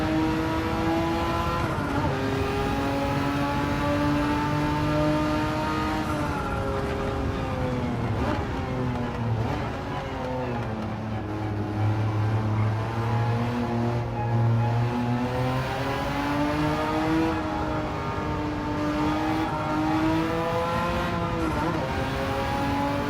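A Porsche 959 racing car's rear-mounted engine in the Gran Turismo 7 video game revs loud and steady, rising and falling with gear changes and throttle for about twenty seconds, with no talk over it.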